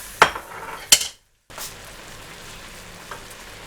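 Chicken pieces drop into a hot pan with two sharp clanks and quick sizzles, followed by a soft, steady frying hiss.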